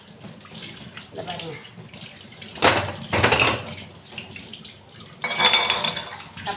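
A brass vessel is washed under running water, splashing and gushing close by in surges, with light metallic knocks of the pot, while someone speaks briefly.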